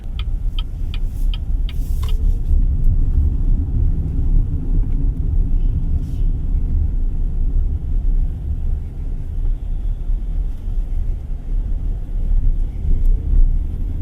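Low, continuous road rumble fills the cabin of a moving BYD Sealion 5 DM-i on a bumpy road, with a few light ticking clicks early on and faint thumps over uneven pavement.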